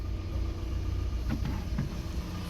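Low, steady rumble of a Toyota Axio car engine idling on fuel while being checked for a starting and wiring fault, close and even with faint clicks and no talk.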